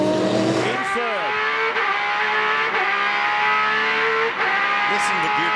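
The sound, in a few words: Porsche race car gear changes, 6-speed gearbox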